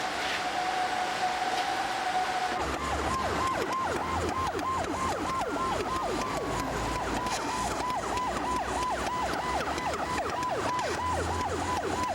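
Fire engine sirens at a chemical plant fire: a steady tone gives way to a rapid, repeating yelp cycling fast and evenly over a constant background roar.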